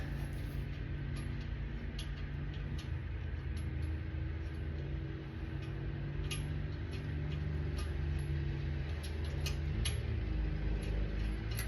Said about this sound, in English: I'm gonna try to take the rest of these lug nuts off.